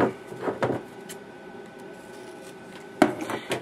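Card paper is trimmed to fit a handmade teacher appreciation card, with a few short scraping and cutting bursts near the start and end and quiet pauses between them.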